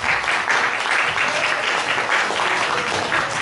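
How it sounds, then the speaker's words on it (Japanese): An audience applauds performers at the live house MOD'S. The clapping is loud, dense and continuous from start to end, a full room of hands with no talk over it. "どうぞ皆さん今一度大きな拍手をお送りください。"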